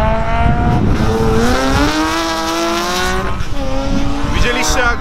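A rallycross race car revs hard and skids on the track, its engine note climbing and dropping with tire squeal. The noise is loud and close, with voices talking over it.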